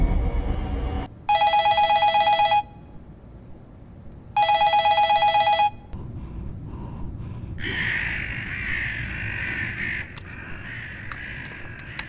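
A telephone rings twice in a Red Mask horror game, each a long, bright electronic trill separated by silence, followed by eerie ambient noise.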